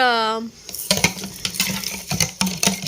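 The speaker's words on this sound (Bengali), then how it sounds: "এক চামচ চিনি দিয়ে ভালোভাবে মিশিয়ে দিচ্ছি" A spoon stirs a spoonful of sugar in a cooking pot, giving repeated clinking scrapes in an uneven rhythm, close by, after a short voice at the start.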